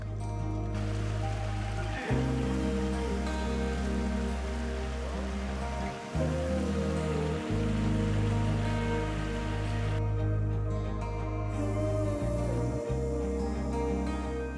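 Monsoon rain falls steadily in a continuous patter on the Naneghat mountain trek in Maharashtra, with a low tonal drone running underneath throughout.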